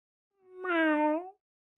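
A single drawn-out cat meow from the video game Danganronpa: Desperate Heart 2, clear and close, rising and then falling away, with silence before and after.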